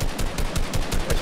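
Minigun fire in Fortnite rattles out as a rapid, evenly spaced burst of loud shots that continues without a break, with no voices over it.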